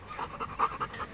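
A shepherd dog panting close by, quick rhythmic breaths in soft bursts over a quiet background.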